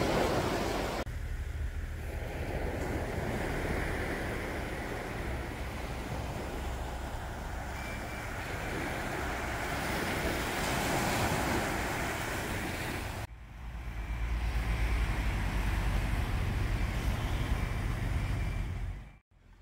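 Ocean waves wash onto a beach at sunset as a continuous broad roar mixed with wind buffeting the microphone, with a brief break partway through.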